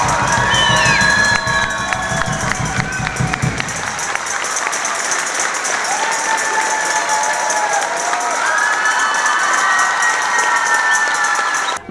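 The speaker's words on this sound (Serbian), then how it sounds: "Nakon da, uslijedile su ovacije publike." A concert audience gives an ovation after a folk ensemble performance in Doboj, with dense sustained applause, whistles and cheering voices from a large crowd, loud and continuous throughout.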